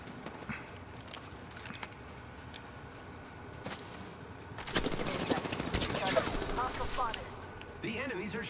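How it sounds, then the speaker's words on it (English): Enemy gunfire from the Apex Legends video game: quiet scattered shots at first, then a loud sustained burst of rapid automatic fire crackles for a few seconds, with faint voices in the background. "The enemies are shooting at me"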